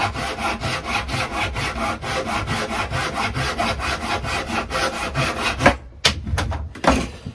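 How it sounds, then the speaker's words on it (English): A hand saw cuts freehand through a piece of timber in regular back-and-forth strokes, loud and near, before stopping and giving a few scraping rubs. "Attempting to cut it square, freehand and square."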